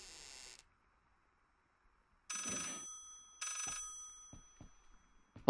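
An old-style telephone bell rings in bursts inside the horror video game Layers of Fear, two long metallic rings separated by silence, then a few sharp knocks and a loud final burst.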